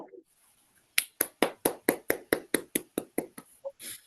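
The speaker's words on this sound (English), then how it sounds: "let's give it one more round of applause" A short round of applause at a school district policy work session: about a dozen distinct, evenly spaced claps, sharp and close, following a brief faint murmur, rather than a full crowd ovation.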